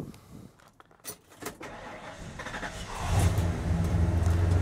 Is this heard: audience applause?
no